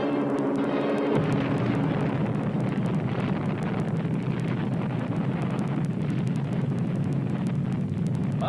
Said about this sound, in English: blast effects of the mighty atom bomb